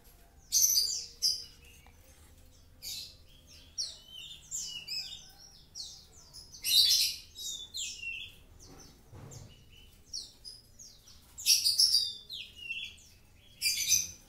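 A sick sogon bird gives thin, high chirps in short scattered bursts, fairly close but soft, over quiet background with occasional faint handling noise.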